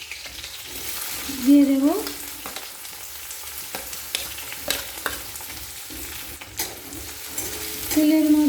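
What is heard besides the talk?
chopped onions frying in oil until light brown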